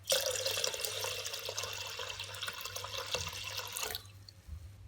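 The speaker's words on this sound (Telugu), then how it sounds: "ఇప్పుడు ఇంకో రెండు గ్లాసులు నీళ్ళు వేసేసుకోవాలి" Two glasses of water pour steadily into a pressure cooker with rice, a splashing, gurgling flow against a low hum, then stop, leaving a few faint drips.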